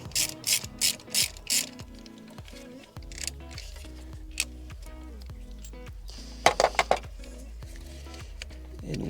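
A hand ratchet turns a long 13 mm socket on a 1.4 T-Jet engine during thermostat replacement: brisk bursts of close clicking pawl sounds with pauses and metallic handling between them, and no talk.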